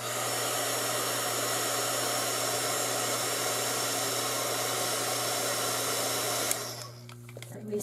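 A hair dryer blows steadily on a painting, a loud continuous whir with a constant hum, cutting off sharply near the end to leave quiet room sound.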